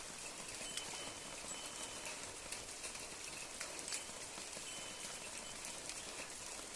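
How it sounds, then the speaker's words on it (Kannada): Light rain falls steadily outdoors, a soft, even hiss of drops with faint pattering and no voices. "ಮಳೇಲಿ ನಿಂತ್ಕೊಂಡಿದ್ದೀನಿ."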